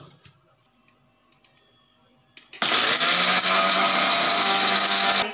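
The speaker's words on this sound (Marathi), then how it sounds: "आता हे आपण जवस आणि मखाणा मिक्सरमधून बारीक करून घेऊ।" A mixer grinder grinding roasted flaxseed and makhana: a few faint handling clicks, then the motor kicks in abruptly with a loud, steady, close whirring grind that runs to the end.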